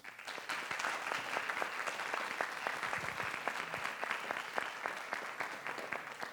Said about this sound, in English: So we want to give a round of applause to our state championship Norwalk Warriors baseball team.